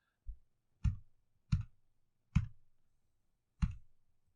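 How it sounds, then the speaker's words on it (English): A password typed on an Android phone: five separate soft taps with short crisp clicks, irregularly spaced and close, with no talking. "Then I would type in a password."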